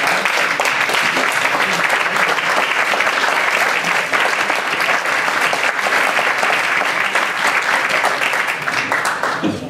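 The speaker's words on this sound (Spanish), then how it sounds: "un fuerte aplauso para todos ellos" A live audience applauds poets and a choir at a Madrid poetry reading: dense, sustained clapping fills the room loudly and evenly for nearly ten seconds before easing slightly at the end.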